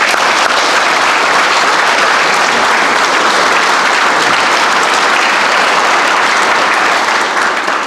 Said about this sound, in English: one last round of applause for everybody